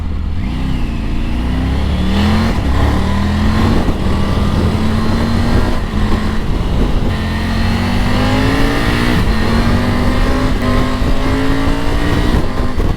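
A Triumph Tiger 900 Rally Pro motorcycle engine under way, rising and falling through the gears with a steady rumbling drone and heavy wind rush, close and loud throughout, with no one talking.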